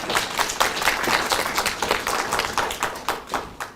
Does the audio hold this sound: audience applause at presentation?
yes